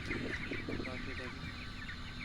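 Broiler chickens kept on a pond farm, a flock clucking and calling continuously at close range over steady low background noise.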